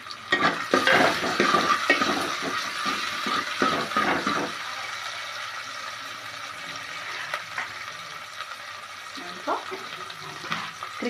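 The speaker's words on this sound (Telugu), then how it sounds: "ఆనియన్స్ కొంచెం ఫ్రై అయ్యాక అందులో టమాటాలు కూడా వేసుకుందాం." Onions frying in a pan while being stirred, with a busy, loud scraping and sizzling texture over the first four seconds, then a quieter steady sizzle with occasional stirring clatter.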